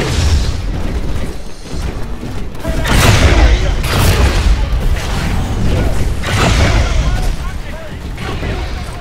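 Missiles blast around a carrier in the Titanfall video game, heavy booming explosions and rumbling bursts rolling in loud waves that swell and fade several times.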